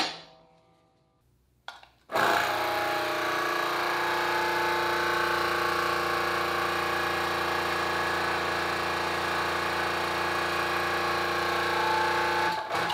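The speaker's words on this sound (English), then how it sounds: "It definitely seemed to make the machine work harder, but it seemed to bend just fine." A DIY hydraulic press brake bending steel plate with a 35 mm V opening, running loudly after an abrupt start as a steady, strained mechanical whine and drone that holds to the end.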